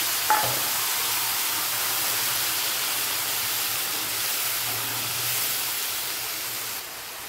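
Ginger, cumin, garlic and chilli fry in hot oil in a pan, giving a steady, close sizzle that runs unbroken with a soft hiss throughout.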